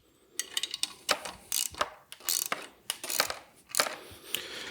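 A bolt and nut are tightened on an aftermarket AC bracket of a 2014–2019 LT truck, giving a rapid series of sharp metallic ratchet clicks in irregular bursts, close and fairly loud, with no talking.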